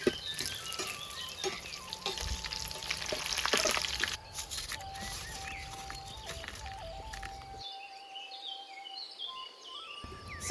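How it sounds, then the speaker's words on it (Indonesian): Tempeh frying in a pan of oil for a large home-cooked village meal, giving a steady sizzle with some brief clatter, birds calling faintly in the background near the end. "Goreng tempe."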